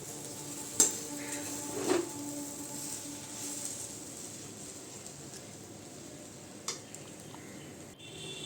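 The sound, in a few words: stirring semolina (suji) with water in a pan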